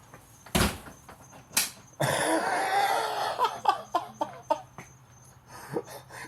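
A door pushed shut in a house, a sharp thump near the start followed by a second bang, with bustle, scuffling and a few short knocks and clatters afterward.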